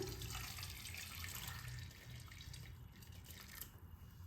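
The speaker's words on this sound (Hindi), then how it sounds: "बर्तन के अंदर गर्म पानी को ले लेना है" Hot water runs steadily into a kitchen vessel, prepared for washing cut cauliflower florets, making a continuous close splashing and gurgling pour with no talk.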